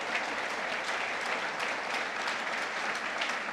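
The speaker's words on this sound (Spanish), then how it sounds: "Ahora den un aplauso al Señor por gratitud." A church congregation claps in gratitude, an even, continuous patter of many hands at moderate volume throughout, somewhat distant and without pauses.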